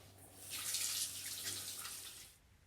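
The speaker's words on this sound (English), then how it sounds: "So just wash your hands." Tap water runs steadily into a sink for hand washing after a sticky jelly-making activity in a kitchen, rising to a full gush and then easing off, close by with no voices.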